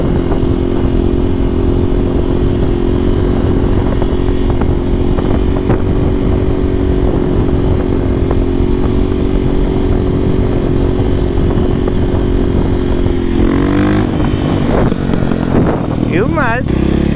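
A motorcycle engine idles loudly and steadily up close, with a voice speaking over it and a brief rev near the end.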